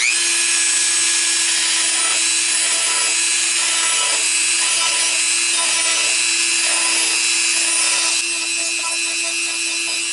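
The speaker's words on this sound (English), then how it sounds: "to make this chamfer, you have to hit it with the grinding wheel" A grinding wheel chamfers a copper or silver ring, a steady high whine with repeated short scraping bursts as the metal is pressed against it, close and alone with no talking.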